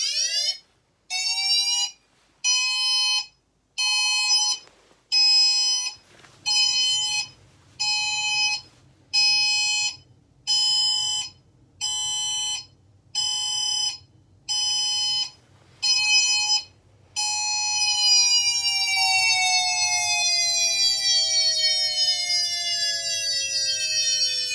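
A Federal Signal SiraTone siren sounds its pulse tone loud and near as a string of about a dozen rapid on-off bursts, then holds a long, steady wail that slowly falls in pitch.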